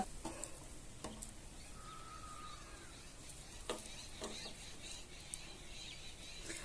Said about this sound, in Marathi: आता ही भाकर आपल्याला तव्यावर घालून घ्यायची